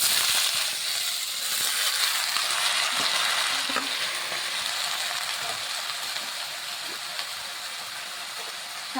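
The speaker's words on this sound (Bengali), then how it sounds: "এখন আমি এখানে সবজিগুলি দিয়ে দিচ্ছি" Vegetables go into a pan of oil with fried chilli and black cumin, giving a continuous close sizzle with scattered crackles and a few stirring clicks.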